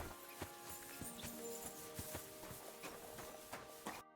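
Horse hooves clip-clop in Kingdom Come Deliverance, a steady run of soft, evenly spaced hoof thuds that sit moderately close amid faint in-game ambience, with no voices over them.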